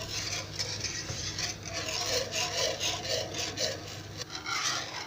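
A spoon steadily scrapes and stirs thickening semolina halva in a pan, a close, continuous rubbing rhythm with no talk.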